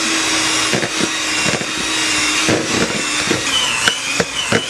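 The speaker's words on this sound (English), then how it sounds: "use my hand mixer to help to create my dough" An electric hand mixer whirs steadily while blending dough for Bajan-style beef patties, its motor note punctuated by repeated soft knocks as the beaters work the mixture.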